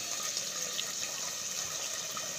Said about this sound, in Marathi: आपल्याला जितकं पाणी लागतं तितकं पाणी टाकू आपण